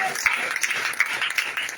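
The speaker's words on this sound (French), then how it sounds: "Acclamez très fort, très fort, dis-moi Amen." Church congregation applauding and clapping during a lively prayer service, a dense, steady patter of many hands with a few sharper claps standing out.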